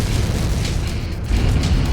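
Missiles striking targets and exploding in the mech combat game Mechwarrior 5: Mercenaries, a loud, dense rumbling boom that swells briefly near the end.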